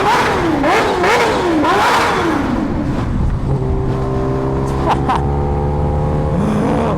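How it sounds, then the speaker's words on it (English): A Kawasaki Ninja H2R supercharged motorcycle revs loudly up close, several rising and falling throttle blips in quick succession before settling into a steady idle drone. "Maybe we'll do a couple of revs right here."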